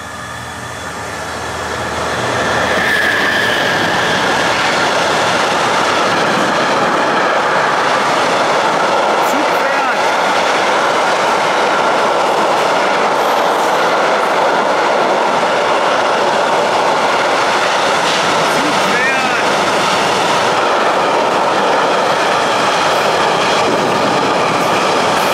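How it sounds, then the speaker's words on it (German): A train rumbles past continuously over a railway bridge, a loud steady roar of wheels on rails with faint clatter and squeal, close by. "Ein nerviger Zug ist durchgefahren."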